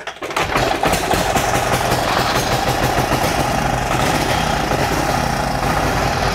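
An Indian Model D1 motorcycle engine catches after a brief start and settles into a loud, close, steady running beat that fills the rest of the stretch.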